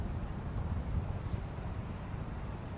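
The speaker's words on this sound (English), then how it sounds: "It's pretty windy though. It's windy and it feels kind of chilly." Wind blowing at a beach with big waves offshore, a steady low rumble of gusts buffeting the microphone throughout, close and moderately loud, with no voices.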